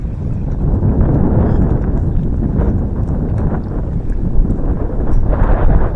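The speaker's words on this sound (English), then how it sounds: "It is windy today." Steady wind buffets the microphone outdoors while bass fishing, with a loud, continuous low rumble and gusty roar throughout.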